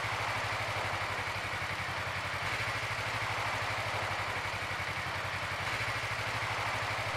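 A Suzuki GSR250 motorcycle engine runs at a steady, even idle with a low, regular thrum, close by and uninterrupted, with no voices.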